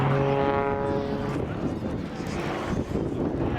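Extra SBach 300 aerobatic plane flying at the Duxford air show, a loud, continuous engine roar whose pitch shifts as it passes, with wind buffeting the microphone.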